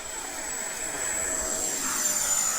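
A T-45 jet engine throttles up for takeoff: a steady, dense roar with a thin high whine running through it, swelling gradually louder. No one speaks.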